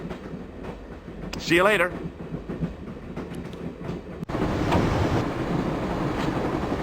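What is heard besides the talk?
train carriage rattling along, from video game Broken Sword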